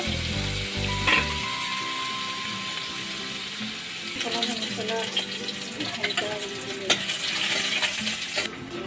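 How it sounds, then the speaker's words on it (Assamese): Chopped onions, green chillies, ginger and garlic fry in a pan for an Assamese vegetable and egg dish, with a steady sizzle and scraping stirring throughout, and a voice briefly audible. "লগতে আদা নহৰুখিনি দি অকণমান ভাজি ল'ব লাগিব"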